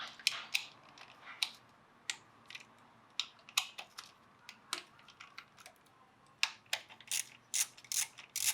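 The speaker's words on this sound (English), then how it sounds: "Now it's time to remove each 10 millimeter bolt off of each coil pack," A ratchet wrench loosening the 10 mm coil pack bolts on a Kia Optima engine gives rapid, close, crisp clicking in irregular bursts with no talk.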